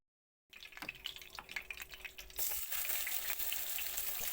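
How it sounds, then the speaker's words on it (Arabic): Liver cubes hitting hot oil in a pan, first scattered crackles and pops, then a sudden, steady loud sizzle as more pieces go in, close and without talk. "بقى بالكبدة كده تدريجيا عشان الطاسة ما تبردش معانا"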